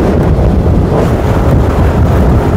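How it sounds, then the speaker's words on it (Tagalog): Strong gusting wind buffets the microphone at a bicycle road race, a loud, continuous low roar and rumble with no voices. "So, at Panlog, Andrew Delpin, napakalakas ng hangin."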